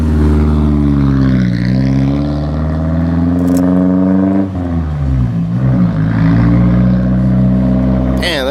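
A Nissan 240SX performs a burnout, its engine holding a loud, strained rev with wavering pitch for several seconds before dipping and climbing again, with people talking throughout.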